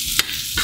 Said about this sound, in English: And I am adding more butter into the pan.